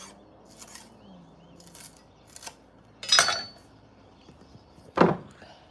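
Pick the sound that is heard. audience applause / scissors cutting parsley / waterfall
scissors cutting parsley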